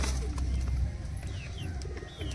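Pigeons with topaz-coloured eyes, Saharanpuri birds in a loft, give low coos with a few faint chirps, near and fairly soft against a steady background hum.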